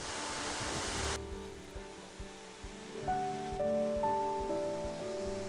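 A waterfall fed by a melting glacier near Glacier National Park's Highline Trail rushes as a steady broadband roar, loud at first and then softer, with faint tonal sounds layered over the water.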